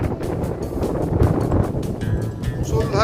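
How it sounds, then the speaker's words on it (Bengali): A strong, cold wind blows hard around a hill homestay near Ahaldara as cloud closes in, giving a continuous, gusting rush with a buffeting rumble on the microphone. "প্রচন্ড জোরে ঠান্ডা হাওয়া, তার সাথে মেঘ আমাদের হোমস্টেটাকে ঘিরে ফেলছে।"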